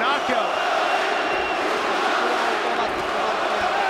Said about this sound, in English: Here comes the crowd cheering on Stoyan.